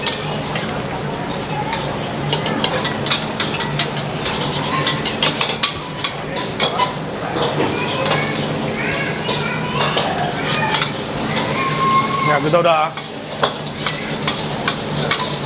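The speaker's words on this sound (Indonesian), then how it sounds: "Ini gue tinggal ngerjain nasi goreng maut. Masuk sayur, bakso ikan" Nasi goreng with vegetables and fish balls is stir-fried in a pan, a steady sizzle broken by repeated metallic scraping and clanks of the spatula, with brief speech and background bustle.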